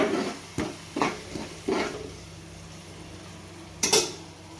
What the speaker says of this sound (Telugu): పసుపు వేసిన తర్వాత ఒకసారి మళ్ళీ ఇలా కలుపుకోవాలి.